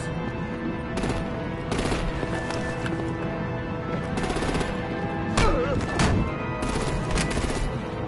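Video game gunfire and artillery in Batman The Enemy Within sound as repeated sharp bursts of shots and impacts over a steady layer of action noise, with a whistling streak partway through and a voice faintly present.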